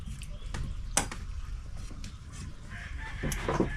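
A chicken clucks and crows a few times at a moderate distance, fairly quiet over a low background murmur of a rural yard.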